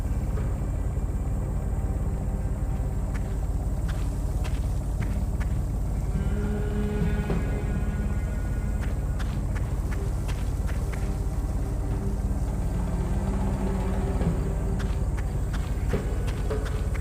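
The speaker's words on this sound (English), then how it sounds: "that might be the engine I heard in the video" Engine running in the adventure game Secret Files 3: The Archimedes Code, a steady low drone throughout with scattered light knocks and clicks on top, no voices.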